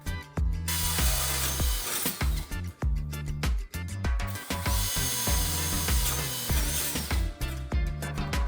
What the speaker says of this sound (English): After a few cutting and drilling steps like you see here